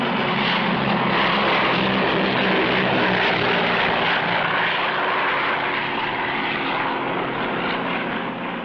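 A propeller airplane drones loudly and steadily as it flies in to land at an African airfield, a continuous engine roar filling the whole stretch with no voices.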